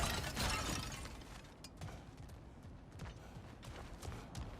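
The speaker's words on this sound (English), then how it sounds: "back to smashing through things for fun and profit" Objects smashed apart in the video game God of War Ragnarök give a quiet scatter of cracking, splintering impacts over a soft, steady background, with no voices.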